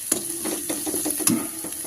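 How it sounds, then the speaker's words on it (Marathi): A spoon scrapes and stirs ginger-garlic paste sautéing in a pan for a village-style drumstick leaf bhaji, with a few distinct scraping strokes over a soft, steady sizzle close up. "आलं लसूण छान असं परतून झालेलं आहे मिक्स करून घेऊया सगळं आता व्यवस्थित"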